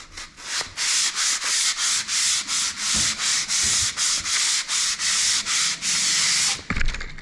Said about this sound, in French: Et tu vois, là, l'angle est poncé.